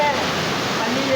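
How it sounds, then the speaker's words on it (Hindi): Heavy rain and knee-deep flood water on a Karachi street during a downpour, heard as a continuous broadband rush and wash of water, with voices faintly present underneath. "1 घंटे की बारिश ने दुकानों को डुबाना शुरू कर दिया। पानी घुटनों तक पहुंच चुका है"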